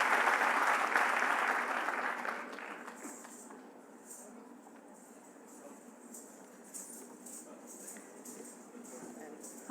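An audience at a university event with the Dalai Lama applauds the stage performances. The clapping is loud and dense at first, then fades within a few seconds to a faint scatter under quiet room noise.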